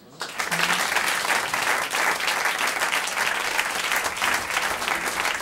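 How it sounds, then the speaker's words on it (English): Steady audience applause at a live MTV Unplugged performance, starting abruptly and holding loud and dense throughout, with a brief voice sounding through the clapping near the start. "Y'all giving me a clap."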